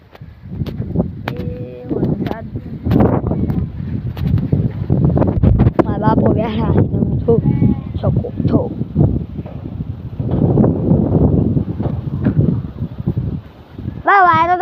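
Gusty wind during rain buffets the microphone with a steady rumbling roar, and voices talk over it throughout, with a brief high tone near the end.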